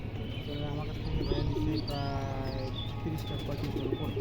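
Racing pigeons coo close by, soft throaty calls repeating through the clip over a steady background murmur, with faint chirps and voices underneath.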